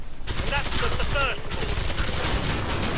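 A small, powerful weapon in the zombie shooter Killing Floor 2 fires rapid, continuous gunfire that stays loud and close for the whole burst, with a voice talking over part of it.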